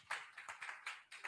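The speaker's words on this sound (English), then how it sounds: "A round of applause for her, please." Audience at a closing ceremony clapping in short irregular bursts, fairly quiet and brief, with no talk over it.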